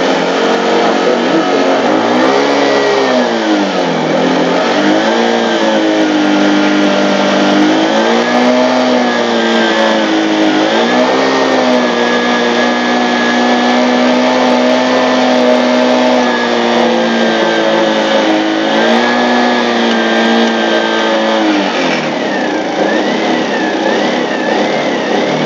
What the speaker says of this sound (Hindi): हमने जो बाइक है हमारी वो यहाँ पे स्टार्ट हो गई है।